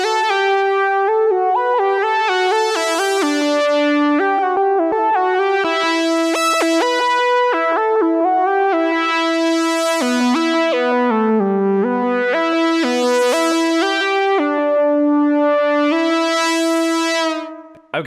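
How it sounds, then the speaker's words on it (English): A bright synthesizer lead from a Korg Volca Keys plays a melodic phrase, each note trailing into echoing repeats from a delay effect, sustained and loud throughout. "we do have a delay effect. Let's just go ahead and randomly play with that."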